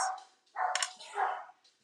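A dog barks close by in a home: a few short, bright yips and woofs in quick succession, then quiet.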